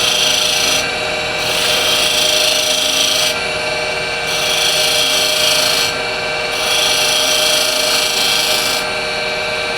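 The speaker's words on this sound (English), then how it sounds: "I'll shear scrape" Shear scraping the top end of a turned wood piece on a lathe, a continuous loud rasping hiss with the spinning motor underneath, swelling and easing in repeated passes of a few seconds each.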